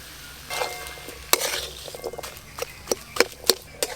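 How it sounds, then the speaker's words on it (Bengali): Spiced mashed potato filling with green chilli, turmeric, pepper and coriander leaves is stirred in a pan, a spoon scraping and knocking against the metal in irregular clicks over a faint sizzle. "এইভাবে নেড়ে নেড়ে সুন্দর একটা আলুর পুর তৈরি করে নেব।"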